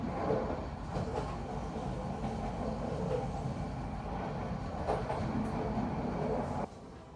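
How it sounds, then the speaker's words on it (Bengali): Nonstop express train running on double-line meter-gauge track from Dhaka toward Cox's Bazar, heard from inside as a steady loud rumble with faint clattering that drops abruptly near the end. "টঙ্গী জংশন থেকে একদম চট্টগ্রাম পর্যন্ত পুরোটাই ডাবল লাইন, তার উপর ননস্টপ ট্রেন।"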